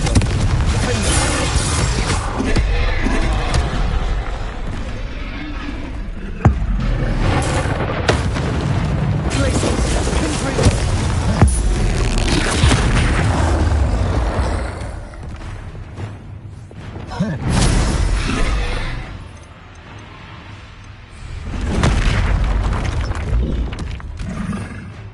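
Confringo spell explosions in Hogwarts Legacy, loud rumbling booms and blasts layered over dense combat noise, with a voice speaking at times and a brief lull near the end.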